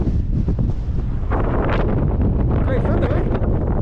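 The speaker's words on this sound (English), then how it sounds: "Very windy, as you can hear." Strong wind roars steadily across the microphone at a mountain edge overlooking the next range, a loud continuous buffeting rumble throughout.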